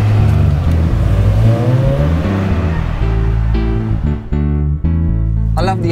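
MG ZS 180 car engine running loud and steady while driving, with revs rising and falling through gear changes and a few sharper rev bursts toward the end, with voices faintly present.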